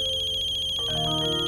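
A phone ringtone chirps in a steady repeating electronic pattern, loud and close, with a soft music cue swelling in beneath it partway through; no one speaks.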